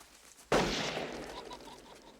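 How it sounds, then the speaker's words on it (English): A single sharp gunshot in a film scene, one abrupt loud crack followed by a decaying echo tail, with nothing else around it. "The gunshot draws the attention of the store clerk"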